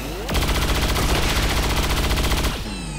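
Sustained automatic gunfire from a soldier's weapon in the sci-fi tactics game XCOM 2, a loud, dense burst of rapid shots lasting about two seconds, framed by game sound effects.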